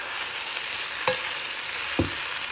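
Pancit noodles frying in a pan with a steady sizzle, stirred in two distinct scrapes a second apart.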